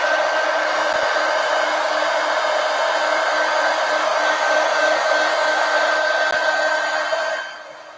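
Hair dryer blowing on paint on an adult coloring page, a loud steady whirring hum held close for several seconds before switching off and winding down at the end.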